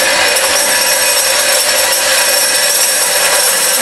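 Horizontal bandsaw cutting through a mild steel bolt, a loud, steady, unbroken grinding hiss that holds constant throughout.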